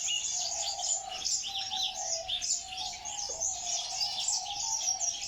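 Dense chorus of many small birds chirping and twittering continuously at an Iraqi bird reserve holding dozens of species, with a steady trilling layer and occasional coos beneath.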